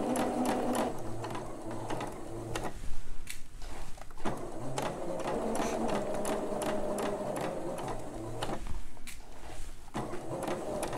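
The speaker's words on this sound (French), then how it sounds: "Donc, je fais tranquillement ma couture jusqu'au bout." Sewing machine stitching a seam on a Maya bra, running in steady rapid bursts with brief pauses between runs, close and clear, with no voices.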